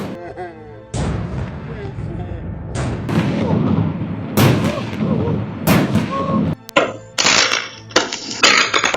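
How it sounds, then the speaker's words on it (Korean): Fireworks going off, seen from an unusual angle: a series of loud, sharp explosive bursts with crackling tails, some close together, over a noisy outdoor background. "이런 각도에서 불꽃놀이를 본다는 건 믿기 힘든 일입니다."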